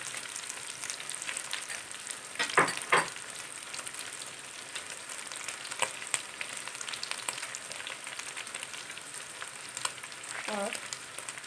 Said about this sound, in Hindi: सबसे पहले हम इसमें चिकन फ्राई करने लगे